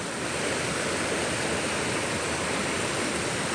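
A creek in Arkansas, flooded after heavy rains, rushes past in a loud, steady roar of churning water that fills the whole clip without pause.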